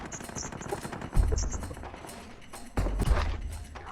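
PUBG video game gunfire: rapid bursts of automatic shots with heavy low thumps, two main volleys about a second and a half apart over quieter game ambience.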